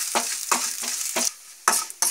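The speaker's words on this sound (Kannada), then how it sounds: "ಚೆನ್ನಾಗಿ ಸ್ವಲ್ಪ ಕಂದು ಬಣ್ಣ ಬರುತ್ತಂತ ಚೆನ್ನಾಗಿ ಫ್ರೈ ಮಾಡಿ ಇಟ್ಟಿಟ್ಕೊಳ್ಳೋಣ" Vermicelli frying and being stirred in a pan for sweet potato payasa, with bursts of crackling sizzle and scraping at an irregular rhythm, close and fairly loud, with no voices.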